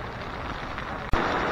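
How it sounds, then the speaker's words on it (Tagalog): Steady, dense hiss of heavy rain pours without a break, with a sudden sharp knock partway through and the downpour sounding slightly louder after it. "dire-diretso pa rin yung pag-ulan"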